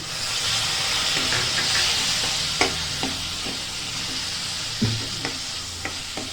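Brinjal pieces fry in a pan with Malvani red masala and a little garam masala, giving a steady close sizzle broken by occasional stirring knocks and scrapes.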